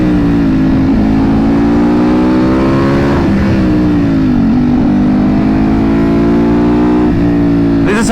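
BMW M1000RR superbike engine pulling hard and easing off across repeated acceleration and braking phases, a loud, close, continuous rising and falling drone with no talk.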